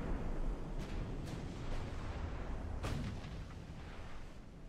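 Naval guns firing in the warship battle game Ultimate Admiral: Dreadnoughts: several deep, distant booms spaced a second or so apart over a continuous low rumble of battle.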